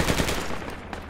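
Gunfire in the Project Reality military shooter game: a loud, dense burst of rapid automatic shots, close and continuous over about a second.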